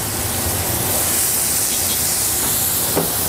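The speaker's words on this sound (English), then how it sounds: "We're gonna deglaze it with our Evita beer." Amber beer hits a hot pan to deglaze it with rosemary and pepper in a restaurant kitchen, making a loud, steady hissing sizzle that fills the whole moment, with a brief bubbling flare near the end.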